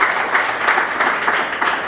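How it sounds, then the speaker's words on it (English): An audience at a Startup Grind Bratislava talk applauds, a steady wash of many hands clapping at moderate loudness for a couple of seconds. "Please give applause to Jano."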